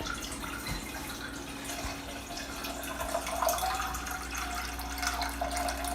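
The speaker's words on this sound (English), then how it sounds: "I'm gonna take some water and I'm gonna put it to a boil." Tap water runs steadily into a pot for boiling, a continuous rushing flow with a faint rising fill tone, close and alone without any talk.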